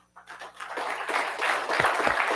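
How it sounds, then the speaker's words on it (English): Audience applause at a Homeland Security awards ceremony, starting thin and quickly swelling into steady clapping from a moderately sized crowd, with a few louder claps near the end. "That applause was for online."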